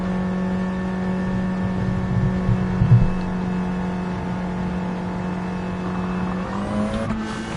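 A touring race car at the St Croix 1500 holds a steady engine drone at moderate distance, then rises in pitch as it accelerates out of a turn near the end.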